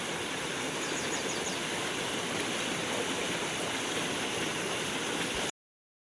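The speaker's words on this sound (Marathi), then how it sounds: "हे बघा झऱ्याचं पाणी की" Water rushes in a steady, dense babble, a stream flowing continuously and close by with no voices, then cutting off abruptly.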